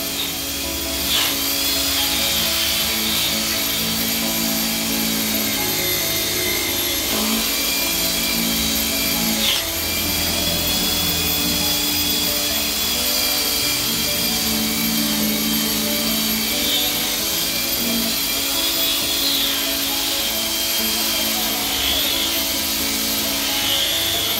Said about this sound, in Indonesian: Ini tahap poles pertama bos.